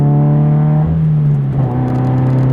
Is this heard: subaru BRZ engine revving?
yes